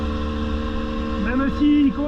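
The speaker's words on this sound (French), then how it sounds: "On va laisser chauffer la moto." A 2022 GasGas EC 300 two-stroke enduro motorcycle idles while warming up, a steady close engine drone with a brief rise in revs near the end, and someone speaking over it.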